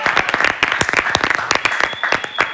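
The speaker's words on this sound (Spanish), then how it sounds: "me pueden aplaudir" Audience applause at a bar debate night, a dense run of sharp claps that holds steady throughout and stands alone with no talk.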